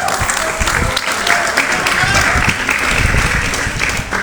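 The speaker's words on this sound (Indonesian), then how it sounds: "Boleh tepuk tangan." An audience at a KPK anti-corruption roadshow community meeting in Bangkalan claps loudly and steadily in a dense, sustained burst of applause.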